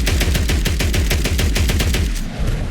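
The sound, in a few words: USAS-12 shotgun firing in Fallout 4 video game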